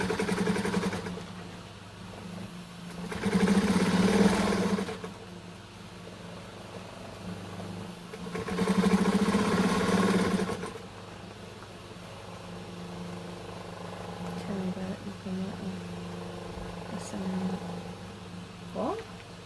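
A sewing machine stitches bias tape around the top edge of a mat, running in two distinct whirring bursts of a couple of seconds each, with a steady quiet room hum in between.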